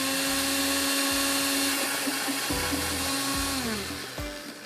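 A blender whirs steadily at close range blending roasted tomato chutney, its motor pitch dipping and shifting briefly near the end as it labors.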